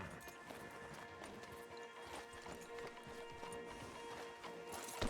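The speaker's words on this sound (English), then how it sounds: "Javier, you're gonna lead the stallions." Horses' hooves clip-clop in Red Dead Redemption 2 as a group rides, a dense, fairly quiet patter of overlapping hoofbeats over a low game soundscape.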